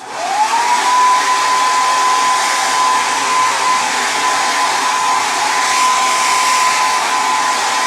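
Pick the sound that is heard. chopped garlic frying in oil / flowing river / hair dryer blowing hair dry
hair dryer blowing hair dry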